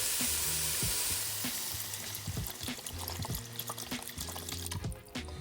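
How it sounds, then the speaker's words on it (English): Broth pours into a pot of sautéed onion and garlic for Zuppa Toscana soup, with a loud sizzle giving way to gurgling liquid and repeated splashes and clunks of the container nearby. "So first I'm gonna add in my broth."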